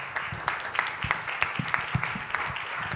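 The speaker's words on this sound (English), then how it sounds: "Round of applause." Audience applause at a conference retreat session, a steady burst of many hands clapping at moderate distance, filling the room without voices.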